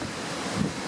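Strong, cold wind gusts across a large open farm field during tractor ploughing, a dense roaring rush buffeting the microphone, steady and loud for a brief moment with no voices.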